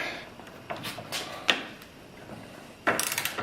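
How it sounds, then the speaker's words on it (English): A number 17 socket ratchet turning a bolt, giving a few separate close ratcheting clicks and clacks with gaps of quiet between them, then a denser burst of quick clicking near the end. "You can see I'm turning this bolt"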